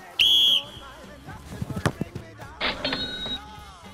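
A referee's whistle sounds in a Polish football-themed TV quiz show: one shrill, steady blast near the start, followed by thuds and studio noise, then a second whistle tone later, with voices in the background.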